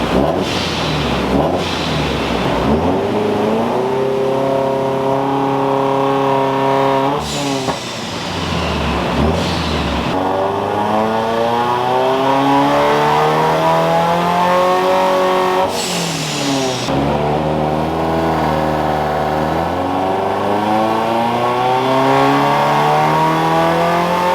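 A boosted Subaru BRZ revs hard on a dyno, its engine note climbing steadily through repeated pulls with brief drops between gears, loud and continuous amid a roaring fan and occasional voices.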